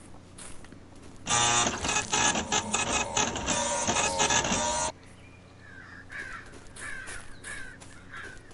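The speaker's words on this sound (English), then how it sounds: "It's a freaking printer printing out like a sheet of paper." A loud video-game printer runs for about three and a half seconds, a dense mechanical whirring and clacking rush that stops abruptly, followed by quieter crow-like caws against a faint background.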